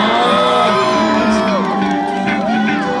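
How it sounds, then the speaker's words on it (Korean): An outdoor music festival crowd in a riverside park cheers and shouts, with long sustained whoops and yells sliding up and down, loud and close and continuous throughout. "목소리의 함성이 여기 앞에가 아니라 뒤에서도 나왔으면 좋겠거든요"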